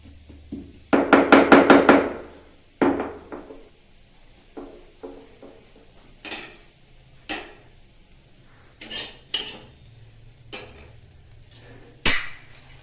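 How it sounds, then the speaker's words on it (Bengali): Garlic is crushed with a few quick clustered pounding knocks, then scattered single thuds and clinks of utensil on the work surface, fairly close and sharp, alone without talk. "একটু রসুনটা আমি থেতো করে নিচ্ছি।"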